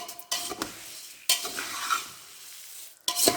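Spicy puffed rice stirred in a pan, heard as a few distinct scraping, rustling strokes with short pauses between them, close and moderately loud, no voices.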